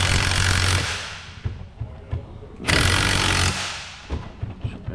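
Impact gun working on the shock absorber top nut of a Vauxhall Corsa D: two loud, rattling hammering bursts, each fading off, followed by softer clicks and knocks.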